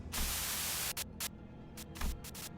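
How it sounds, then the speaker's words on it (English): Harsh radio static from the Limbus Company video game bursts out loud, a long continuous hiss followed by several short choppy bursts of white noise cutting in and out, with a low hum underneath. "A sudden buzz of white noise breaks through the truck's silence."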